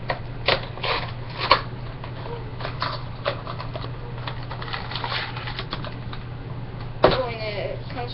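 A Disney Infinity 2.0 Hawkeye figure package is opened with rustling, crinkling and tapping of plastic and cardboard, punctuated by a few sharper snaps, over a steady low hum.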